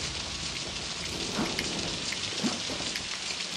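Steady rain pours outside in the horror video game Outlast, a dense hiss of drops with two faint low rumbles of thunder underneath, no voices.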